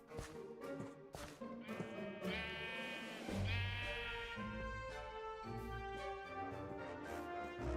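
Several sheep in a Minecraft game bleat in repeated wavering calls, overlapping and fairly close, with a few soft taps between them.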